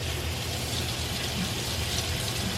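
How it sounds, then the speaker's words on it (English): Running water pours steadily over canned corn in a small colander, a close, even rushing splash with no pauses. "Now going to add the corn, but I'm just putting it into a little colander and I'm gonna rinse it."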